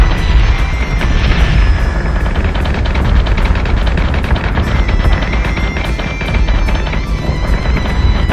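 Warship batteries fire in the space combat game Battlestar Galactica Deadlock. Dense, rapid rounds of cannon fire and booming blasts run without pause and at constant loudness throughout.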